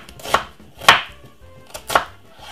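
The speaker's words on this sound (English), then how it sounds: "simple cut it up really finely" Knife chopping a white onion on a board, three sharp separate cuts spaced unevenly, close and clear with nothing else in the background.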